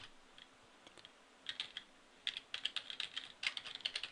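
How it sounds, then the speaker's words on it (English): Slow, deliberate typing on a computer keyboard while entering Java code: soft, close clicks come in irregular clusters, picking up into a steadier run of keystrokes toward the end. "Gotta type that slow so I don't mess it up."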